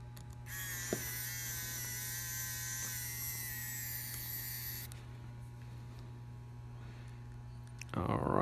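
An electric screwdriver drives a Phillips screw, a close, high-pitched motor whine lasting about four seconds over a low steady mains hum, followed by quieter handling sounds and a brief clatter at the end.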